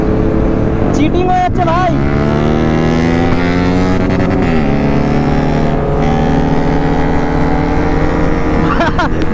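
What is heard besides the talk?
superbike motorcycle engine braking while racing on road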